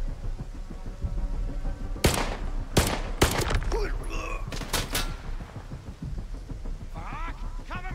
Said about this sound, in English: Like there's someone shooting me from above.